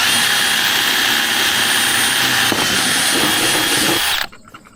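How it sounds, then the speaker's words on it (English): A power drill whines at a steady high pitch while working during a solar tracker install, then cuts off abruptly near the end, leaving quiet. "That should be all of the drill work that I have."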